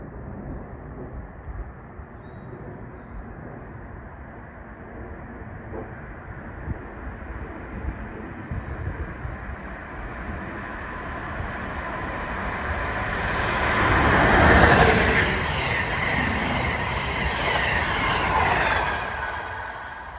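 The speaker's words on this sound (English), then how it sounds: "approaching New York bound at 4:07 is train 42, the Pennsylvanian, en route from Pittsburgh to New York" Amtrak train 42, the Pennsylvanian, passes on its run from Pittsburgh to New York. A broad rushing roar builds steadily, peaks as the cars go by, and then lingers loudly, with wind buffeting throughout and no talk.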